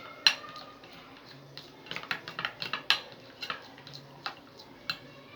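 A spoon stirs tahini in a bowl, giving a series of close, bright metallic clinks and taps against the bowl, sparse at first and then a quicker irregular cluster, over a quiet background with no talking.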